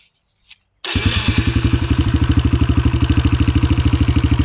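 A 2023 Kawasaki KLX140RF dirt bike fires up without choke after a short quiet moment, catching at once and settling into a loud, close, rapid single-cylinder idle with an even, pulsing beat.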